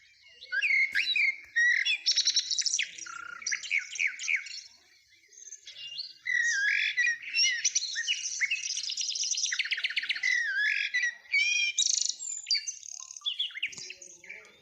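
Several birds sing and chirp close by in a lively, continuous chorus of varied trills, whistles and rapid tweets, with only brief pauses.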